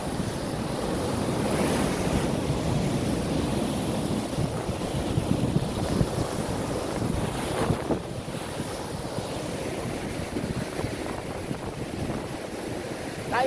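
Ocean surf on a rocky Guam shore rolls in a steady heavy wash, with swells rising and breaking, blended with strong wind buffeting the microphone, and no talking.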